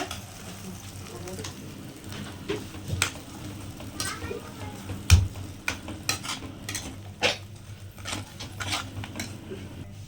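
Fenugreek seeds being stir-fried in a pan for okra tamarind curry give off irregular scraping and tapping clicks from the stirring utensil, with a faint sizzle and a voice in the background.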